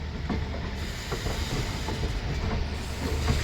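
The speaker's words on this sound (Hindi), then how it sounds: "तो शाहजहाँपुर स्टेशन से ट्रेन निकलते हुए" A passenger train pulls out of Shahjahanpur station with a steady rumble and rattling clickety-clack of wheels on rails, continuous and fairly close, with a faint hiss and no voices.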